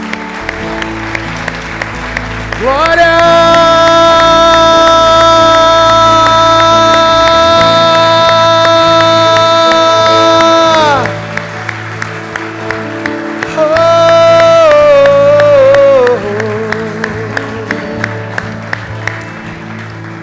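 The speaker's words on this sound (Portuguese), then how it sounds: "Aplauda o teu Deus." Church congregation applauding and cheering, a sustained loud wash of clapping from a large crowd, while a strong held tone sounds over it, probably a keyboard or organ, and a voice shouts briefly.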